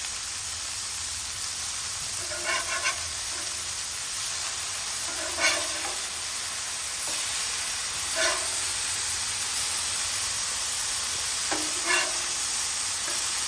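Smash burger patties sizzle steadily on a Blackstone griddle, a constant hiss with a few scraping clinks from a spatula as they are flipped, close and moderately loud, with no talking.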